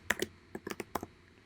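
Rapid clicks from a computer keyboard as someone types a short word, about a dozen crisp, close keystrokes in quick uneven bursts, quiet and with no talking.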